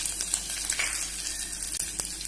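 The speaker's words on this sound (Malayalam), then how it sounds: "ഇതുപോലെ ആ പച്ചമുളകിൻ്റെ ഒന്നിങ്ങനെ വഴറ്റിയെടുക്കണം" Green chillies and dried red chillies sauté in hot oil in a pan for vadukapuli pickle, giving a steady, close, bright sizzle with faint stirring scrapes and no talk.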